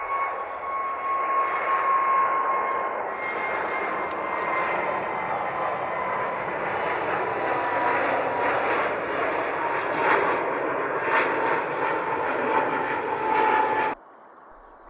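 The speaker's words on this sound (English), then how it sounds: "The A321neo XLR struggles to lift off, showcasing the delicate balance between power and lift." An Airbus A321neo XLR jet on a deliberately low-speed takeoff gives a sustained loud engine roar with a whining tone, steady for about fourteen seconds before cutting off abruptly.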